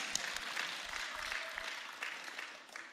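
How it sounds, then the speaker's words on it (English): A church congregation applauds during an evening service, soft and somewhat distant clapping from a moderate crowd, holding steady and thinning slightly toward the end. "Round of applause."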